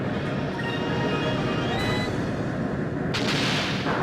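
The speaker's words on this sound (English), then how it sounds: "use the harpoon cannon here" A harpoon cannon fires in the video game Skies of Arcadia Legends, a loud, continuous booming blast with heavy rumble that holds throughout, with a brighter burst toward the end.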